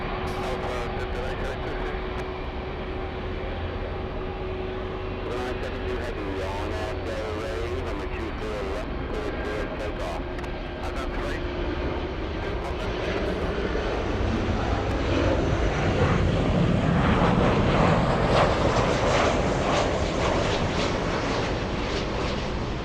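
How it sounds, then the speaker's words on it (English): A large passenger jet powers up at LAX, its engine roar building steadily into a loud, broad rush over about twenty seconds, with faint voices and outdoor airport noise underneath. "I'm hearing a big plane. Power up."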